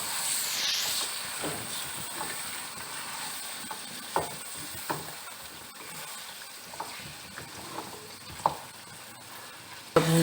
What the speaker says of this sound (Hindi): टमाटर डालेंगे, इसे भी हम 5 मिनट मसाले को भूनेंगे।